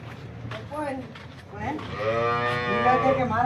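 A local Banaskantha cow lets out a long, loud, close moo that rises and swells in the second half, with faint farmyard background and a voice briefly audible.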